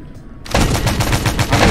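Anti-aircraft guns on a barge open fire at a dive bomber in a video game, a sudden loud burst of rapid, overlapping gunfire after a short quiet start.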